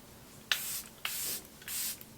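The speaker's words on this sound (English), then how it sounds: "Let me just put a little bit of setting spray on." Makeup setting spray misted from a pump bottle, three short, close hissing bursts about half a second apart, each starting with a sharp click of the nozzle, quiet and alone.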